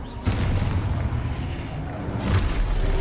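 A Confringo fire spell blasts in Hogwarts Legacy, giving two heavy booming bursts about two seconds apart over a continuous rumbling roar of combat, loud and near.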